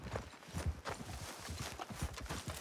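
Horse hooves clip-clop at a steady walking rhythm in Red Dead Redemption 2, close and fairly loud, with a few heavier thuds among the footfalls and no talking.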